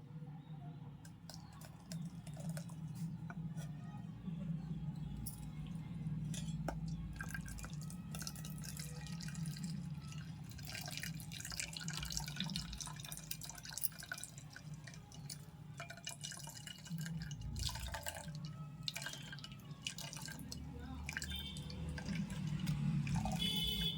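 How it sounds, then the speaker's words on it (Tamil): Coconut milk, squeezed from ground coconut for halwa, runs through a sieve into a vessel with a steady trickling, dripping flow that continues throughout, close and moderately loud. "இது அப்படியே ஒரு பாத்திரத்தில் இந்த ஜல்லி வச்சு இந்த பாலை வடிகட்டி எடுத்துக்கலாம்."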